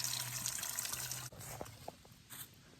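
Water from a small forest stream trickles and splashes as it is collected into a container, a steady close liquid sound with a few brief drips and splashes standing out near the end.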